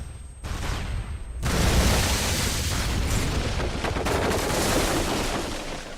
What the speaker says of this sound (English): Look at where he threw the fucking grenade from.